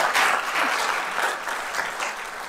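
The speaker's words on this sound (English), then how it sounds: "Clap it up." An audience at a city council meeting breaks into applause to recognize educators, dense steady clapping that swells at the start and then holds, with no one talking.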